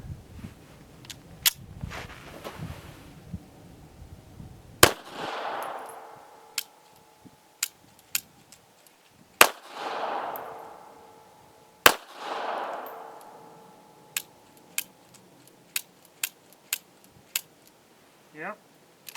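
Pistol shots from a Taurus Spectrum firing reloaded ammunition at an outdoor range: a few sharp, loud cracks several seconds apart, each trailing a short echo, with lighter clicks and handling clatter in between.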